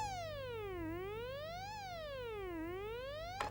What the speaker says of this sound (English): So let's generate pitch change or pitch modulation, otherwise known as vibrato.